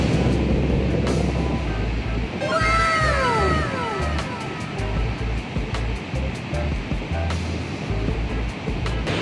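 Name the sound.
Niagara Falls waterfall roaring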